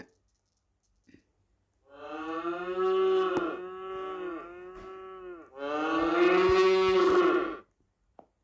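A long, loud video game sheep bleat in two drawn-out parts, harmonic and wavering, heard close and alone against silence.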